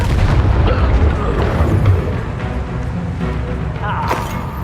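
An Incendio fire spell is cast in Hogwarts Legacy, a heavy booming whoosh of flame that swells loud at the start, then fades into a rumbling tail with a sharp burst near the end.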